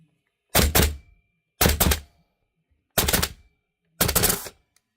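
An airsoft Archwick Type A with a VFC flat trigger mod fires in binary mode, giving four loud close bursts, each a quick pair of shots, spaced about a second apart with silence between.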